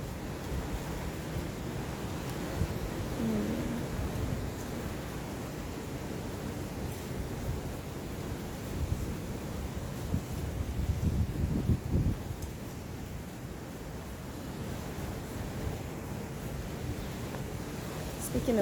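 Ocean waves at a beach, a steady roaring wash of surf with swells rising and falling, heavy low rumble and wind noise on the microphone, no clear talk over it.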